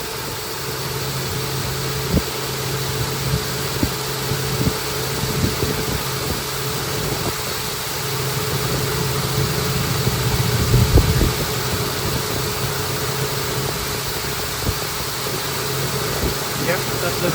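A Honda Pilot engine idles steadily after a timing belt tensioner replacement, a smooth continuous hum with a fan-like hiss and no rattle, with occasional small clicks and a brief voice partway through.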